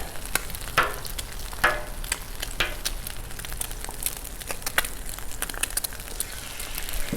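Egg frying on a Blackstone griddle during a teriyaki shrimp fried rice cook, a steady close sizzle with crisp crackles and pops spread across the whole stretch, no talking.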